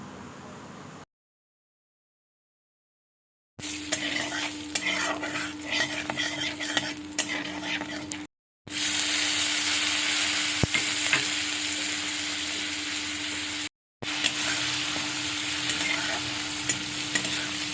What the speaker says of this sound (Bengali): মাখনটা গরম হয়ে গেলে এর মধ্যে দিয়ে দেবো গোটা জিরে, একটা তেজপাতা, 2টো শুকনো লঙ্কা, আর তারপরে দিয়ে দেবো আধখানা টমেটো কুচি